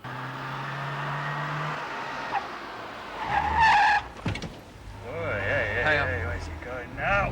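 Police cars racing along a dual carriageway in a chase, with a brief screech of skidding tyres and engines roaring past amid background traffic, while people talk over the action.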